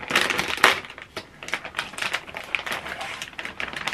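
Someone tears open a 1 kg plastic bag of frozen fish fillets with loud, close crinkling and ripping bursts, then softer intermittent rustling as the bag is handled.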